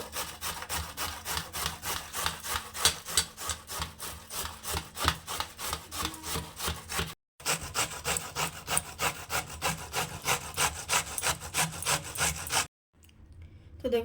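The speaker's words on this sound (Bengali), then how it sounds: "এইভাবে ঘষে নেব এই দেখুন মিহি মিহি হয়ে যাচ্ছে" Radish rubbed by hand against a grater for paratha, a fast, even rasping stroke repeated dozens of times in two long runs separated by a brief pause, close and clear with no talk.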